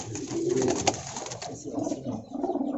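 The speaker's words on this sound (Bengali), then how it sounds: "এখানে অনেক ধরনের গিরিবাজ কবুতর আছে" Giribaz high-flyer pigeons coo in soft repeated throaty phrases at close range in a pigeon farm loft in Dhaka, with faint rustling around them and no speech.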